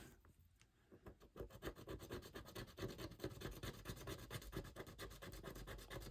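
A scraper rasps steadily across a scratch card, a close, continuous scratching and rubbing with quick repeated strokes lasting several seconds, no voices.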